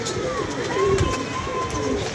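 Soft, low pigeon cooing sits close under an ongoing voice, with faint rustling in the background.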